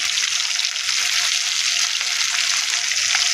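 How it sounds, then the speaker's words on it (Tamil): Fish fries in hot oil, a dense, loud, continuous sizzle that stays close and even throughout, with no one talking. "மீன் நல்லா வேகம் சூப்பராக வறுவிட்டுருக்கு"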